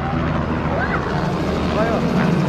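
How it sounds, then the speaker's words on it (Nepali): A helicopter comes down onto a football ground, its rotor and engine producing a loud, steady droning thrum that fills the scene from start to finish, with faint voices underneath. "हेलिकप्टरमा आएर पुरै ग्राउन्डमा पार्किङ गरेर"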